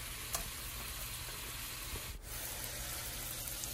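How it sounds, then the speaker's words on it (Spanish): Diced bacon fries in a skillet with a steady, dense sizzle and crackle that holds evenly throughout, with a brief dip partway, close and fairly quiet with no voices. "Aquí ya los tenemos ya en el sartén para que se frían"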